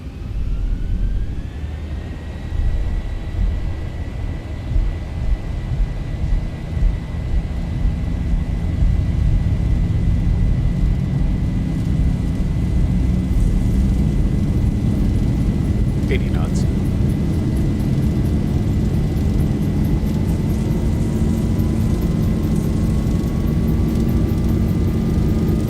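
A Zibo Mod Boeing 737 in the X-Plane 11 simulator spools its engines up for a takeoff roll from runway 34 left at Sydney, a steady rising whine over a loud continuous low rumble, with talk over it.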